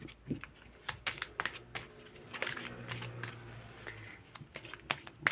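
A second deck of oracle cards is shuffled in quick, irregular bursts of flicking and riffling, close and fairly quiet.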